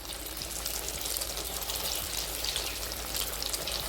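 Kothimbir vadi, coriander fritters, fry in oil over a low flame, giving a steady, even crackling hiss that holds at a constant level throughout, with no voices.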